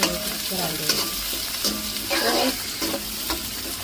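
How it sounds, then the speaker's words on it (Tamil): Onion, green chili and curry leaves sautéing in a pan, with a steady broadband sizzle and a spoon scraping and stirring in irregular strokes, close and fairly loud, with no voice. "அப்படியே வெங்காயம் பச்சைமிளகா கருவேப்பிலை வதக்கி"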